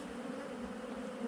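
Black honey bees at a hive in late October make a steady, low buzzing drone, a faint continuous hum without talk.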